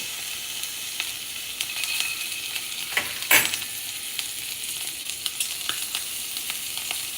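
Shrimp seasoned with salt and pepper fry in a pan, a steady close hiss and crackle with scattered pops and one brief loud clatter midway, no talking.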